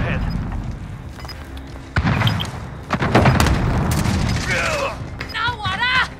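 A grenade explodes in Call of Duty: Modern Warfare amid a firefight, a loud sudden boom followed by bursts of gunfire and other battle noise, with voices and radio chatter heard during the fighting.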